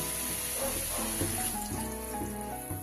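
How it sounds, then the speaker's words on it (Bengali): Water pours steadily into a pan of soybeans for a poppy-seed chutney, a continuous close gushing stream with a faint sizzle under it and no voices. "এবার আমি এতে দিয়ে দেব জল"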